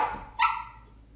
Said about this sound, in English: Cash, why are you barking?